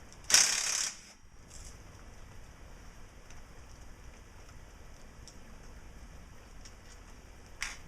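A T40 Torx bolt being undone on the battery pack of a Renault Fluence ZE electric car, opening with a short, loud burst of ratchet clicks, then a long quiet stretch of faint handling noise and one more brief click near the end.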